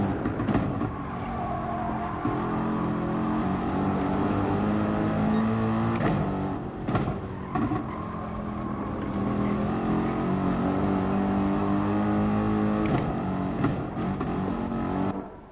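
Toyota Supra race car engine in Gran Turismo Sport during online FIA GT practice: a continuous, moderately loud engine drone that rises and falls through gear changes, with a few brief sharp breaks, and no voices.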